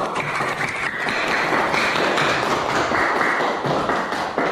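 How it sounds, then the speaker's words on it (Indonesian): Steady classroom applause after a student group's science presentation, a dense continuous patter of many hands clapping at close range for several seconds with no speech over it. "Kita beri aplaus dulu."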